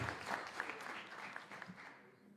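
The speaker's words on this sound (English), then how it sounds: "A round of applause for that." An audience applauds at a talk about Africa with a short burst of steady clapping from a crowd, fairly quiet and even throughout, with a few louder claps standing out.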